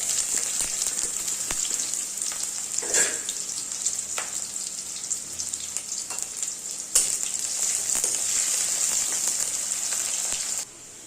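Onions and two bay leaves fry in hot oil in a kadai, a steady bright sizzle running throughout with a few soft stirring clicks, close and fairly loud, no talk.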